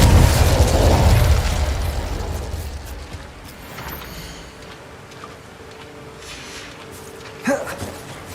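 Spell blasts in Hogwarts Legacy burst with a heavy booming explosion that rumbles out and fades, followed by a quieter crackling tail and a brief sharp pop near the end.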